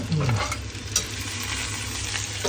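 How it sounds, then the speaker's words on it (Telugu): Chicken for gongura chicken biryani fries in a pan until golden, giving a steady, close sizzle with occasional stirring scrapes throughout and no talking. "ఇది గోల్డెన్ ఫ్రై చేసుకునే వరకు వేయించాలి."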